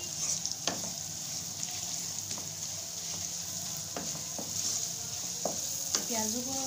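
Spices frying for zeera pulao in a pan, a steady bright sizzle throughout with several sharp scraping stirs of the spoon spaced across the clip, close and fairly loud.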